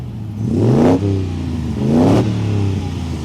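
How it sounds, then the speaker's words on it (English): A 1963 Daimler SP250 V8 sports car engine revs up twice in strong rising surges, each falling back to a throaty idle, close and loud with no talking. "do me a favor, rev the engine for me, sir"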